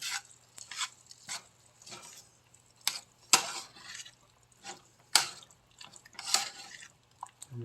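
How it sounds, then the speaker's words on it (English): Bacon beef hash and eggs are stirred together in a greased pan: soft wet scrapes and clicks of a utensil against the pan in irregular strokes, close and fairly quiet, with no voices. "Now we're going to mix this all together as well."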